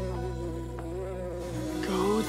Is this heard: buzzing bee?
yes